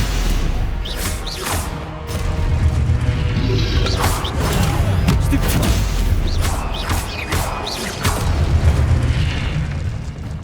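Stupefy spell impacts in Hogwarts Legacy land as a string of loud, deep booms and crashing bursts. Sharp hits repeat irregularly over a rumbling low-end bed of combat effects, with no speech.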